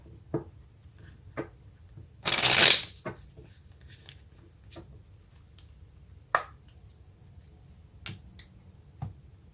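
Tarot cards are shuffled in one brief, crisp riffling burst close by, surrounded by scattered light taps and clicks of cards being handled in a quiet room.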